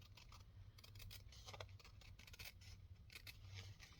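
Scissors snip through a paper template in quick irregular cuts, faint and close in a quiet room, with no talk.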